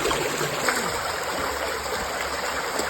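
Fresh spring water at Sitio Binaliw, Sogod, Cebu, flows in a steady, close babbling stream with light gurgles and trickles, continuous and moderately loud, with no talking.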